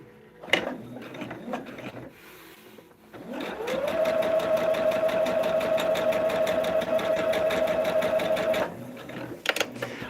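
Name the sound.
sewing machine stitching a quilt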